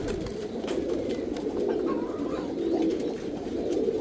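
Caged pigeons, one female kept with three males, coo continuously in a dense overlapping murmur, near and steady, with no voices present.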